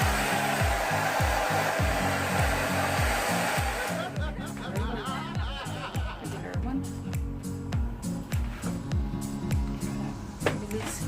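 A Revlon 360 Surround hair dryer styler runs with a steady, loud blowing roar that holds for most of the stretch, while a rhythmic thumping pattern pulses underneath it throughout.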